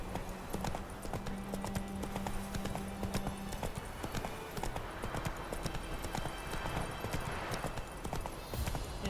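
Horse hooves clip-clop in a steady rhythm throughout a ride in the video game The Witcher 3, close and continuous over a low sustained background tone.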